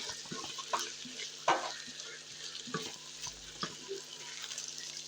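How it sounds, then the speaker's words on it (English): Chopped tomatoes stirred into kheema in a pressure cooker: a spoon scrapes and knocks through the mix in several short strokes, with a faint sizzle of cooking underneath and no talking. "And stir that in, then you let it cook as well."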